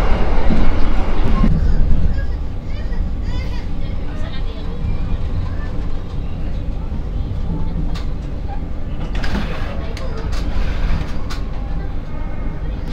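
Interior of the Gaya Baru Malam Selatan passenger train pulling into Cikarang station, a steady low rumble and rattling of the carriage with brief clanks, louder at first and then easing to a constant hum.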